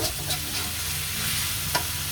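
Food sizzles steadily in a hot wok while stir-frying bean sprouts, with occasional scraping stirs of a utensil against the metal, close and fairly loud.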